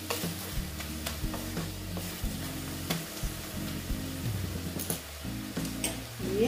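Food frying in a pan with chilli powder just added, stirred with steady scraping and a constant close sizzle, with a low humming tone running underneath.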